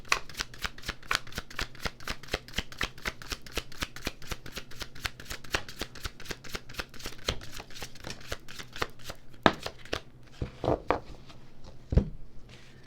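Tarot cards are shuffled close up in a long run of rapid, crisp riffling flicks, ending in a few slower taps and slaps as the deck is squared.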